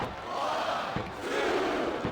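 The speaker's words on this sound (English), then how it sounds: "This capacity crowd is making their opinions known tonight." A capacity arena crowd roars continuously during a wrestling match in the video game WWE 2K25, a dense wall of cheering and shouting that swells slightly and fills the whole clip.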